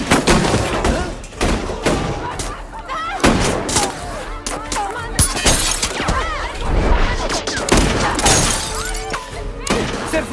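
Gunfire in a Hindi action film shootout, dense rapid bangs and cracks mixed with shattering and crashing impacts, loud and continuous with a busy soundtrack underneath.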